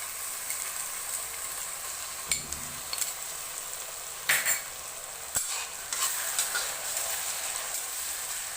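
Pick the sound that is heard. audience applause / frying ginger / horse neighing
frying ginger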